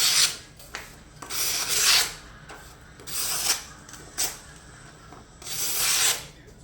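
A knife blade is stroked across Smith's Tri-Hone sharpening stones, giving separate scraping swipes roughly once a second, close and fairly loud with short pauses between strokes.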